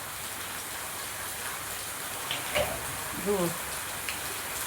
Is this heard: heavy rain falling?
yes